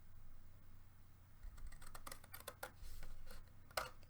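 Paper being cut across the bottom up to a score line on a We R Memory Keepers explosion board, heard as a faint run of small crisp snips and clicks over a steady low hum, with no talking.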